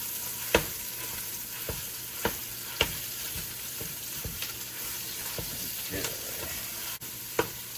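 Sausage browns and sizzles steadily in a pot while a utensil scrapes, breaks it up and stirs with sharp, irregular clacks, up close.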